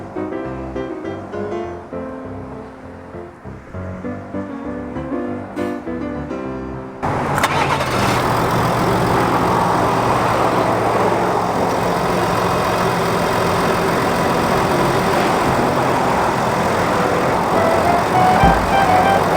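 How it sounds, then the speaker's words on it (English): A 2018 Ford F150 pickup with a 3.0L Power Stroke diesel cranks and catches after about seven seconds, then settles into a steady, fairly quiet diesel idle that runs on alone. "you got that diesel sound that you're listening to right now, but it's actually a pretty quiet motor"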